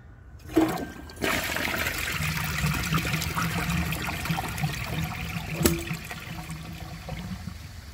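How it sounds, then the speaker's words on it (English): A 2014 Vortens Murano toilet flushes with its handle held down: a quick clunk of the lever, then a loud rush of water that keeps gurgling and pouring steadily for several seconds, close by in a quiet room. "Flush 2 with the handle held down."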